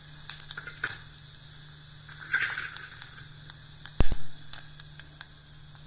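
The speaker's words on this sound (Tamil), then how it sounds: "வெடிச்சிருச்சு கடுகு" Mustard seeds splutter in hot oil in a cooker, giving scattered sharp pops and crackles over a low steady hum, with one louder burst of spitting near the end.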